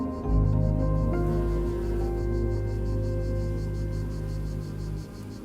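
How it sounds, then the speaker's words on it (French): Cicadas buzz steadily at 1100 m altitude in a dry French countryside setting, a dense, continuous pulsing drone that fills the air throughout with no talk. "Là, on entend les cigales."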